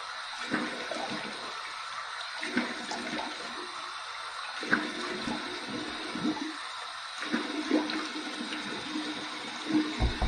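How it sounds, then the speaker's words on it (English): Warm water runs steadily from a tap for a rinse after a shave, a continuous close hiss with a few louder splashes, no voices. "2 final rinses, 1 warm, 1 cold, warm water rinse."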